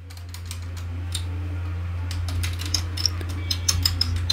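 Code being typed on a computer keyboard: quick, light key clicks in uneven bursts over a steady low hum, close and moderately quiet, with no talk.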